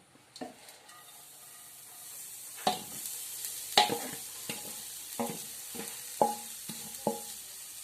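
Grated coconut dry-roasting in a pan, a faint sizzle under scattered distinct scraping strokes of a spoon against the pan, close and without voices.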